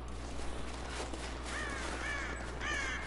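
Several crow caws in Rise of the Tomb Raider, coming in three short calls over a steady low ambient hum from the game's wilderness setting, with no talking.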